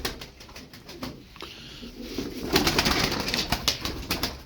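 Tumbler pigeons cooing close by in soft, repeated throaty calls, with scattered rustling and a few flutters mixed in.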